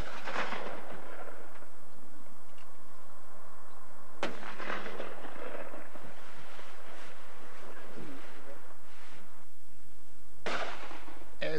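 Shotgun blasts ring out over water from a rowing boat aimed at cormorants, two loud booming reports with echoing tails several seconds apart, amid outdoor rumble and faint voice.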